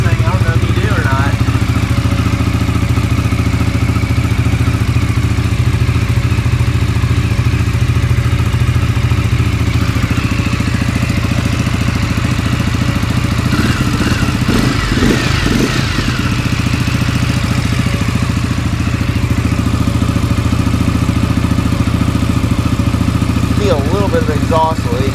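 A CFMOTO motorcycle engine running at a high idle, a steady close mid-frequency drone with some clatter, continuous throughout with a brief surge near the middle and faint voices underneath.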